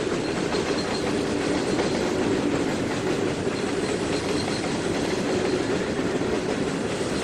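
Steady rolling rumble of a train moving along double-tracked main line rail in Trainz 2019, continuous wheel clatter with faint rhythmic clicks, fairly loud and even throughout with no voices.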